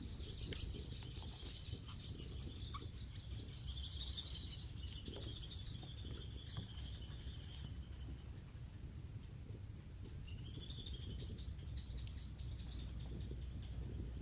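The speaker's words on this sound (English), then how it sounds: "Even the birds are cheering me on." Birds chirping outdoors, several bright repeated calls in short bursts over a steady rumbling, rain-like background that carries through the whole stretch.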